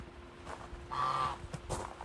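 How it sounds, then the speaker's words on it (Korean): A goose honks at night on Jeju Island, a few short nasal calls rising out of quiet background hiss, fairly close, with no voices during the calls. "거위야 거위. 진짜 있어."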